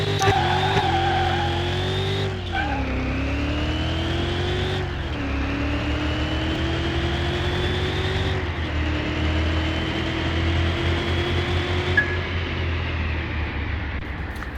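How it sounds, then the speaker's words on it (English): A 289 V8 engine in a non-supercharged truck idles in Car Mechanic Simulator 2021, with a steady, loud, rumbling low tone that runs throughout and shifts pitch slightly a few times. "Idle on that 289 there is pretty cool."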